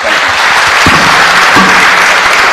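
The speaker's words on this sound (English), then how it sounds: "please put a warm hand of applause for these two gentlemen" Loud, dense applause fills a hall at a digital summit, steady clapping from a large audience throughout with no break.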